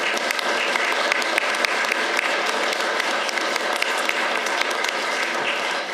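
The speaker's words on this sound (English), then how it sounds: "So if we could give him a round of applause quickly for what his children are going through." Applause at a Morris County military service medal ceremony for Cedar Crest residents, a dense, steady wash of many hands clapping that holds evenly for the whole stretch with no voices.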